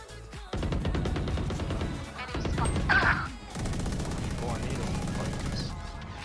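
Rapid automatic gunfire and crashing impacts from a shooter video game come in loud dense bursts, broken by a short pause, with excited voices heard in the mix.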